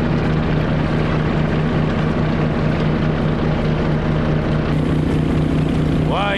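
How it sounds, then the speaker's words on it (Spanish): The engine of an autogyro runs loud and steady throughout, a dense droning roar with a constant low hum and no voices over it. "Freno y apagando motores."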